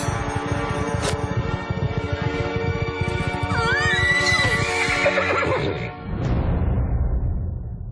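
Horses neighing and whinnying loudly over dense galloping hooves and a rumbling crowd-like din at a pony race, with a rising whinny near the middle, a sharp crack at one second and a brief dip before the noise resumes.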